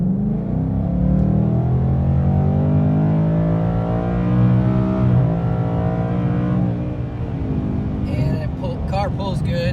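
A 2019 Mustang cruising at highway speed with its exhaust in quiet mode, a steady low engine drone and road roar throughout, gently rising in pitch partway through, with brief higher chirps near the end.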